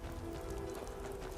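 Rain falls in the video game Skyrim, a soft, even patter with a faint low tonal hum beneath it and no talking.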